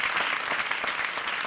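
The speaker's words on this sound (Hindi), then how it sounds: "जोरदार तालियां" A studio audience at a comedy show claps loudly and continuously, a dense wash of applause with no voices over it.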